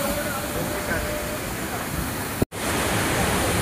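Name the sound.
small waterfall at Thoseghar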